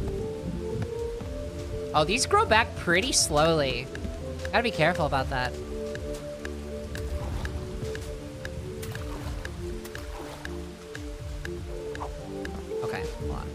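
Steady rain patters across the Bugsnax island, a constant soft hiss with scattered drips that continues under someone speaking and other in-game sounds.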